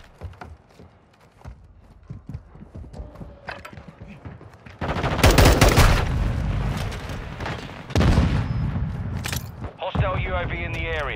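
Bursts of automatic gunfire and heavy booms from Modern Warfare II combat, loud and dense, with in-game voice callouts heard alongside the shooting.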